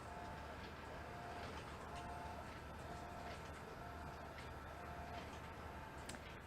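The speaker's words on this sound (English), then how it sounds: "So it's printing out." An Epson SureColor F570 printer runs as it prints, giving a steady mechanical hum with faint repeating tonal whirs of the moving print head at regular intervals.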